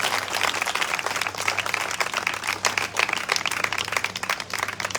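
Congregation clapping at a Jesus Is Alive Tour church gathering in Lahore, Pakistan: steady, dense applause sustained throughout, with a low hum beneath and a faint voice now and then.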